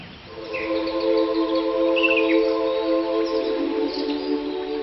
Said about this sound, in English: I then went with Anna to Birds of Eden, the largest free-flying avian facility in the world for rescued birds.